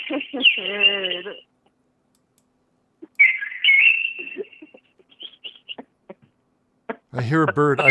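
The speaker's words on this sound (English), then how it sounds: "What's that bird sound I'm hearing right now?" Chirpy, bird-like tonal calls in a comedy sketch, where a baby is the supposed bird, come in short bursts between gaps, fairly close and clear, with a faint clicking stretch in the middle.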